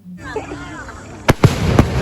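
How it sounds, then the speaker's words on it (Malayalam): Fireworks burst at a village festival at night: three sharp, loud cracks in quick succession, heard over a murmur of crowd noise and background voices. "ഇതിന്റെ പുറത്ത് വെടിക്കെട്ടും കാര്യമൊക്കെ ഉണ്ടായിരുന്നു അവിടെ."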